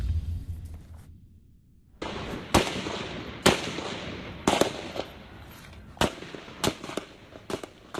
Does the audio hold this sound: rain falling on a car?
no